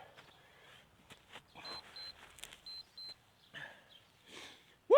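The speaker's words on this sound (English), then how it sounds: "all I'm hearing is these beeps" Short high-pitched Tabata workout timer beeps sound in a quick series of about five, faint and evenly spaced amid quiet background noise.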